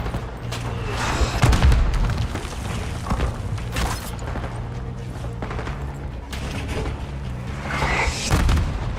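Mortar shells explode in the Call of Duty: Black Ops 6 campaign, deep booms striking at intervals amid scattered gunfire and battlefield clatter, loud and fairly close.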